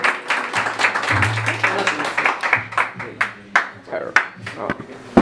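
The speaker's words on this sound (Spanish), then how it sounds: "Un aplauso bien especial, familia" Applause at a family birthday party with a mariachi band: a steady patter of claps mixed with voices and music, moderately loud and close.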